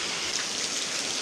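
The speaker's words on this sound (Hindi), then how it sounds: "इस बार हो रही है बारिश" Rain falls steadily in a close, even hiss of drops striking surfaces, with no voices over it.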